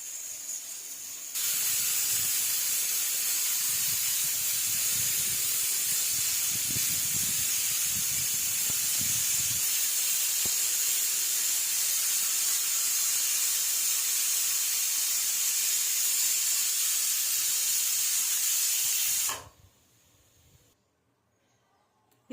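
Steady, loud hiss of steam escaping from a pressure cooker of tomato rice as its pressure releases, holding constant for about eighteen seconds before cutting off abruptly into near silence.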